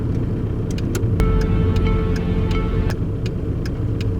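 A car driving through San Francisco at night, heard from inside: a steady low engine and road rumble runs throughout, with faint ticking clicks over it and no talk.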